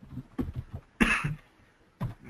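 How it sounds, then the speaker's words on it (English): Several coughs and a throat clear from a person during an online training session, close and fairly soft, in short bursts separated by brief pauses. "I'm sorry, I'm coughing frequently."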